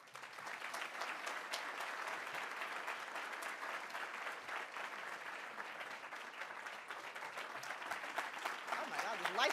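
A large audience at Tacoma's 2017 State of the City event applauds to welcome Mayor Marilyn Strickland, a steady, dense clapping that holds for the whole stretch with a slight swell near the end.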